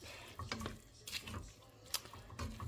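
Hoppin John being stirred in a pot, quiet scraping and soft clinks of a spoon against the pot over a low sizzle, faint and close.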